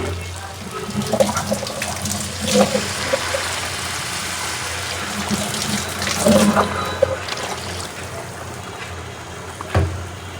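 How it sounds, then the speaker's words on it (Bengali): Water poured steadily into a pot of fried rice and spices for biryani, a continuous splashing rush close by with some clinks, no talk. "এখন পানিতে দিয়ে দিচ্ছি পরিমাণ মতো।"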